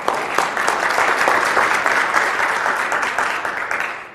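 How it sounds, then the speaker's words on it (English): A conference audience claps for a speaker just introduced, dense steady applause from many hands filling the room at a moderate level and thinning slightly toward the end. "Thank you for the kind applause."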